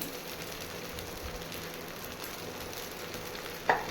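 Black cumin and radhuni seeds temper in hot oil for a taro and prawn dish, giving a steady, close crackle of frying that runs throughout and swells into a couple of louder spits near the end.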